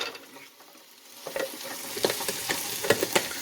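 Maple sausage links fry in butter in a pan, a soft crackling sizzle that builds and grows busier with small pops and spatters, close up, with no speech.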